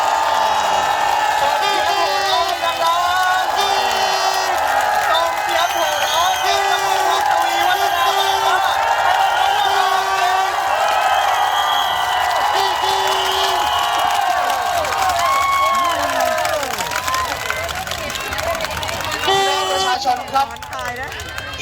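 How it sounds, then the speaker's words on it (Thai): A large crowd at a pro-democracy political rally cheers and shouts continuously, with whoops, voices and whistles rising over a dense roar that holds for about twenty seconds before easing slightly. "ใครที่จะไปส่งเสียงโห่ร้องเลยนะครั"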